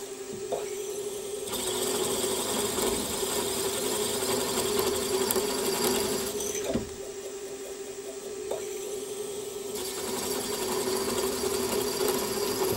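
A milling machine drives a 6.2 mm drill bit into a tooling plate, giving a steady mechanical whir with a constant tone and faint rattling shifts, alone without speech.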